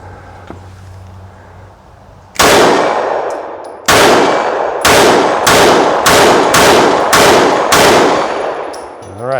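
A Steyr M9A2 pistol fires eight rounds outdoors on a hot day: one sharp loud shot, a pause, then seven more in a quick steady string, each ringing out briefly.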